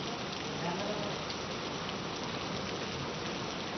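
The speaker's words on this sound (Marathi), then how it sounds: "मुसळधार पाऊस पडला आणि परिसरामध्ये गुडघाभर पाणी साचलं" Heavy downpour in Maharashtra, a dense, constant hiss of rain with no break or change in intensity, steady and fairly close.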